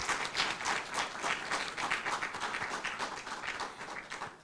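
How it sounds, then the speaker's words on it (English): An audience at an African Union model conference opening ceremony breaks into dense, continuous applause, with many hands clapping together at an even level and no talking. "So let's give them a round of applause"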